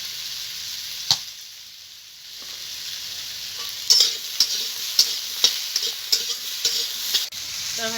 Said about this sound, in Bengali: তরকারিটা ভাজা হয়ে গেছে